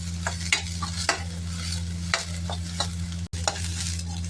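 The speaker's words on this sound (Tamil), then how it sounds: "நம்ம அதை சேர்த்து ஒரு நிமிஷம் வதக்கிக்கலாம்" Cabbage sautéing in a pan for a tava burger, an even sizzle broken by periodic spatula scrapes, a steady low hum underneath and a brief dropout near the end.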